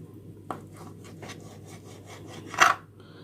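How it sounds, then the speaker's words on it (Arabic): A knife slices raw chicken breasts into small cubes on a cutting board, giving soft rasping strokes and a sharper tap of the blade near the end, close and fairly quiet, with no talking. "بنبدا نقطع الصدور مكعبات"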